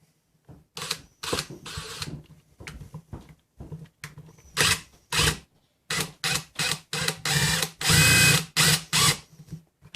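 A Milwaukee Shockwave impact driver drives a large screw with no pilot hole, sounding in a dozen or so loud close bursts of whirring and hammering with short pauses between them, the last burst longest.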